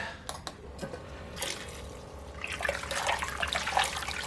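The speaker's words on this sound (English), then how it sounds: "I'll pump a little bit of that around to mix it in." Brewing water for an American IPA sloshing and splashing through a pump, starting with a few splashy bursts and building into steady, louder churning flow in the second half.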